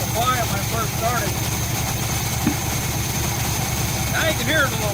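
A 1966 Chevy Biscayne's engine runs steadily at idle with a low, even rumble and a faint whine, while someone talks intermittently over it.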